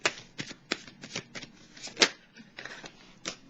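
Tarot cards handled and laid down on a table during a reading, a series of soft papery slaps and shuffling taps at an irregular pace, close and fairly clear.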